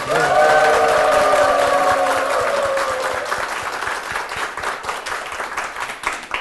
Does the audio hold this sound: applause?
yes